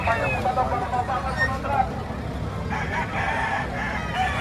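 Roosters crow and cluck amid the bustle of the Padre Garcia market in Batangas, with people talking nearby and vehicle noise in the background.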